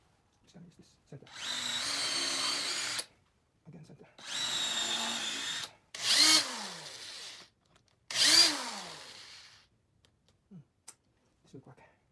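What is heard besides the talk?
power drill drilling into scrap wood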